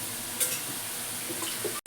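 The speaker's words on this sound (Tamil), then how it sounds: "கொஞ்சோண்டு தண்ணி விட்டு லைட்டாக ரொம்ப தண்ணி ஊற்றக்கூடாது" Water is poured into chana dal kootu cooking in a pan, a short soft splash and sizzle lasting under two seconds with a faint background hiss.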